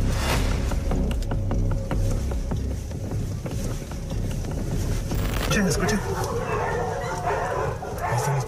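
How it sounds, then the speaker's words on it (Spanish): Several dogs bark repeatedly at a site said to hold hundreds of dogs, sharp yelps and woofs in a busy, rhythmic stream over a steady low rumble, with a voice talking over them. "Escuchen. Ahí están los perros, mira."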